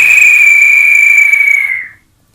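A man imitates a traffic policeman's whistle at a crossroads: one long, loud, steady shrill whistle lasting nearly two seconds, then cut off into silence.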